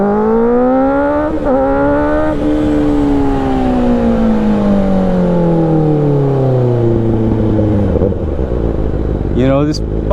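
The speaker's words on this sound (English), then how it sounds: "I'll just stick it in first gear right before it's turn green, so that I'm ready to go." Motorcycle pulling away in first gear at a green light, the engine note rising steadily and then falling over several seconds, loud and close, with a gear change and a short rev near the end.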